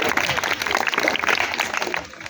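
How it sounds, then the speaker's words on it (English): A group claps for a team at a classroom quiz, with dense, steady applause filling the whole moment and tapering slightly at the end. "Team number 3, you got 14 marks. Clap for them."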